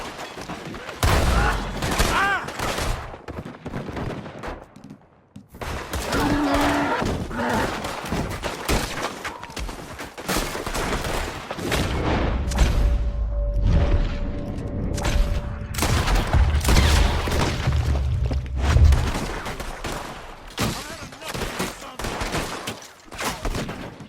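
A Red Dead Redemption 2 shootout rattles with dense, repeated gunfire, loud bursts and volleys piling over one another alongside booms, with shouting voices mixed in among the shots.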